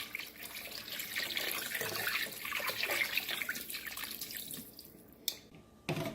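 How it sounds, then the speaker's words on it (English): Water pours steadily into a container to cover a turkey in a kitchen, a continuous close splashing fill that lasts several seconds, followed by a couple of brief knocks at the end. "Fill it up with some water."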